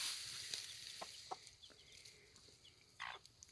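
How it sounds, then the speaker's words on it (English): A mother hen makes soft, faint, intermittent clucks among chicks on a farm, scattered short calls with quiet gaps between them. "they make a certain noise when they're calling the chicks"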